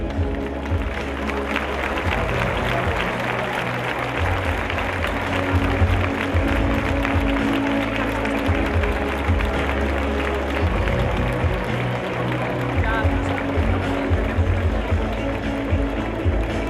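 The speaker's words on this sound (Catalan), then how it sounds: "Acomiadem de l'escenari amb un fort aplaudiment als membres del jurat." Audience at the Torrent Fallas queen election gala applauds the jury, a dense, continuous wash of clapping with a heavy low rumble throughout and possible voices mixed underneath.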